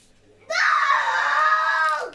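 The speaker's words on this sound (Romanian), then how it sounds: "Mai nu mai țipa așa," A child lets out one loud, sustained scream indoors, a sharp cry that starts suddenly and holds steady for about a second and a half before breaking off.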